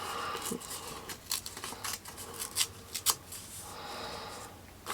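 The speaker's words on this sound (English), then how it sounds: "I think I'm going to tear this as well." Paper being torn by hand for a reading journal spread, several short, quiet rips and crinkles spaced irregularly, close to the microphone with no talking.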